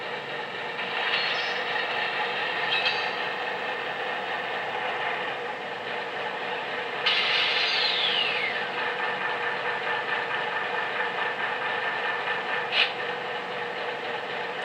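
Coupler slack clanks from an HO ALCo RSD-15 diesel model locomotive sound decoder, a brief metallic clunk and rattle rising over a steady mechanical diesel drone, with a few sharp knocks scattered across the loop.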